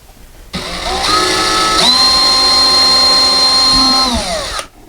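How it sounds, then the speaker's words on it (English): A power drill bores a very small test hole through a wall to locate a stud, its motor whining up to a steady high pitch for about four seconds, close and loud, then spinning down. "we drilled up here just to make sure where the stud was located"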